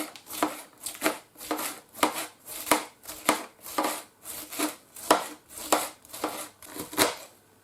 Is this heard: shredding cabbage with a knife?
yes